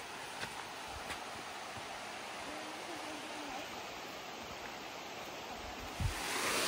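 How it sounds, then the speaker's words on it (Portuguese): A waterfall on a hiking trail produces a steady, broad rushing roar that continues evenly throughout, heard from a moderate distance with a faint hint of wind. "Cachoeira ali, ó"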